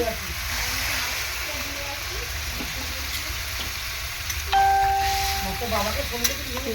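Mixed vegetables for a vegetarian dish sauté in a pan with a steady close sizzle and occasional stirring scrapes; partway through, a clear electronic chime rings over the frying.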